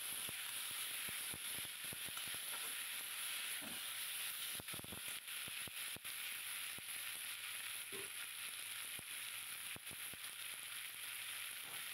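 Chopped tomato with salt and turmeric frying in a pan, a constant bright sizzle and hiss dotted with small crackles and pops, close and steady throughout, with no talking.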